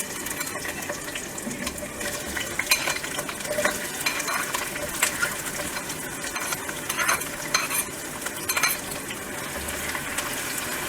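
Roughly chopped onion fries in a pan for a dhaba-style mixed vegetable dish, giving a steady sizzle under repeated scraping of the spoon as it is stirred, with no voices.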